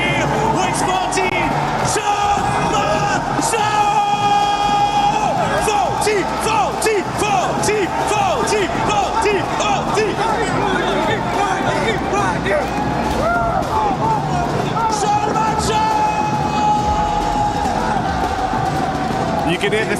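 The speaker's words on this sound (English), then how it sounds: "You can hear the celebration in the arena." A large arena crowd cheering and roaring at a PUBG Mobile esports world cup final, a dense continuous wall of yells, whoops and clapping that fills the hall, loud and reverberant throughout, with voices shouting within the din.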